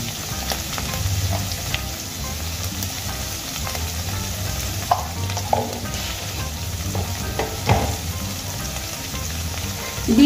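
Prawn heads frying with turmeric in a hot pan, a continuous close sizzle with scattered crackles and occasional utensil scrapes, no voices.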